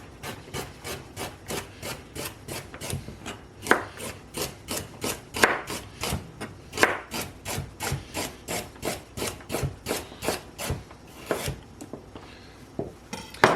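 A knife slices through peeled carrots on a cutting board in a fast, steady rhythm of crisp chops, dozens of close, sharp strokes with no talking.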